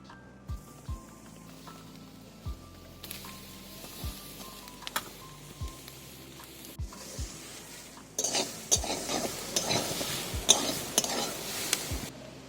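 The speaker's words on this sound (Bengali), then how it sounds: "নারকেলটাকে খুব ভালো করে প্রথমে ভেজে নেব" Coconut frying in a pan for fried palm pithe, with sharp scraping stirs and clinks at irregular intervals over a quiet sizzle that grows louder and denser in the final seconds.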